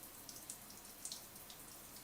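A running shower hisses in a steady, faint wash of spray with a few light splashes and drips rising above it, continuous and unbroken, with no voices.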